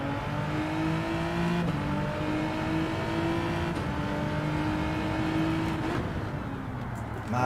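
A race car engine in Gran Turismo 7 drones steadily at high revs, a continuous harmonic whine that shifts slightly through gear changes and holds loud and close throughout, with no one talking.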